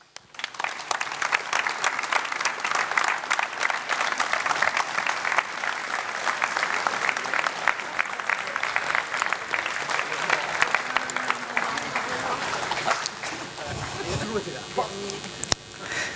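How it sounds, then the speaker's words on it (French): A large crowd at a mayor's New Year ceremony applauds the municipal staff loudly and continuously, a long dense ovation that thins out toward the end as a few voices and clatter emerge. "j'aimerais que vous applaudissiez très fort tous ces fonctionnaires"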